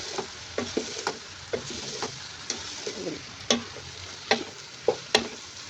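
Sponge gourd pieces are stirred through sizzling masala in a pan, a soft steady fry broken by repeated crisp spoon taps and scrapes against the metal, up close with no speech.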